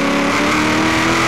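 A supercharged 1000+ horsepower Holden Torana A9X with a Powerglide transmission revs hard in Forza Horizon 3, a loud, steady engine drone close up with no other sounds.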